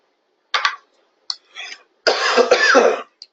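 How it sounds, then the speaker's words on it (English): A few short throat-clearing bursts, then a longer, harsh cough close to the mic, loud and alone with no talking. "I just had a little cough there."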